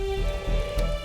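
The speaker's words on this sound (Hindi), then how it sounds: "ये अचानक क्या हो गया? बिन मौसम बारिश कैसे?" Sudden unseasonal rain pours down steadily, a dense hiss of drops striking surfaces close by with a faint low rumble underneath and no voices.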